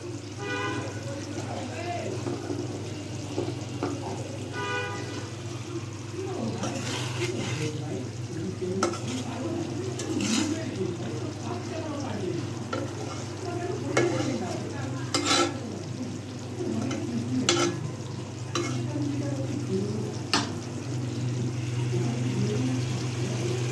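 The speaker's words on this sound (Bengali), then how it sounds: "এখন আমি এর মধ্যে একটু ধনিয়া পাতা দিয়ে দিব, দিয়ে একটু নাড়াচাড়া করে নামিয়ে ফেলবো।" Snakehead fish bhuna being stirred with coriander leaves in a pan, a spoon scraping and clinking now and then over a constant low hum and soft sizzle, with speech heard at times.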